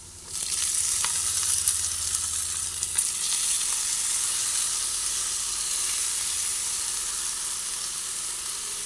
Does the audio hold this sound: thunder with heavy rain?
no